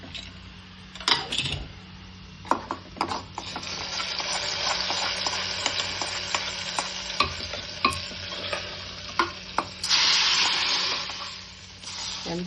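A hot tempering of mustard seeds is poured into a potato curry made with meat masala, giving a steady frying sizzle with crackles and clinks of a spoon or pan throughout, loudest near the end.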